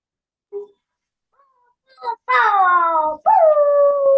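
A voice imitates a steamship horn with two long, loud drawn-out hoots after a few short faint sounds.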